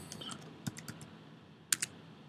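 Keys tapped on a computer keyboard in a quiet room, a few sparse, faint clicks followed by a brief cluster of sharper keystrokes, with no talking.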